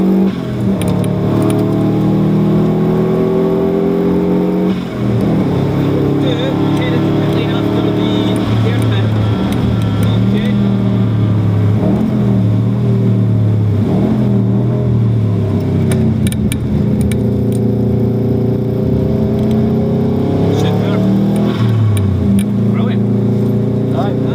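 A race car powering out of a corner at Knockhill circuit during a driver-tuition lap, its engine droning loudly and continuously with rising and shifting revs, under a voice talking over it.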